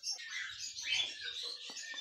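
Canary chicks chirp inside a home cage, a dense, continuous cluster of thin high peeps and twitters, fairly faint and close, with a few soft rustles underneath.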